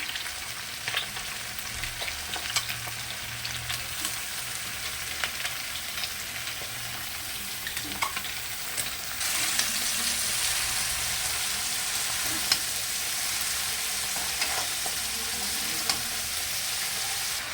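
Cabbage frying in a pan with ginger paste and ground cumin, turmeric and coriander, a soft steady sizzle with occasional stirring clicks that grows brighter and louder about halfway through.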